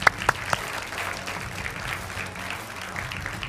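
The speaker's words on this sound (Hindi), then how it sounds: "ताली बजाइए भाई" An audience claps on a Hindi political debate show as a JDU leader joins the panel, a few sharp claps up front giving way to a soft, even patter of scattered applause.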